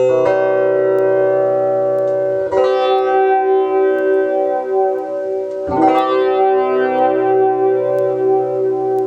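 Sustained electric guitar chords struck three times through an Ibanez FL-9 pedal under repair, each ringing out with repeating delay echoes that trail and overlap, no voices.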